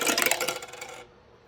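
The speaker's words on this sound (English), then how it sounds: "So I'm supposed to roll the dice until I get 3 in a row." Dice are rolled onto a hard surface during a cash-stuffing savings game, making a quick, close rattling clatter for about a second before falling quiet.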